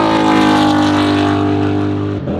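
A Corvette race car engine at Buttonwillow Raceway drones loud and close, holding a steady, strongly tonal pitch before dropping abruptly near the end.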